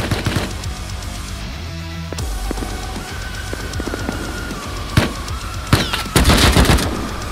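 Automatic AK rifle fire in the survival game Rust, heard as sharp bursts of shots with the loudest cluster near the end and scattered single cracks before it, over game ambience.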